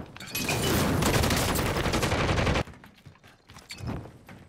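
A dense, loud fusillade of rapid gunfire rattles continuously for over two seconds, then breaks off abruptly into quieter scattered shots and faint distant noise.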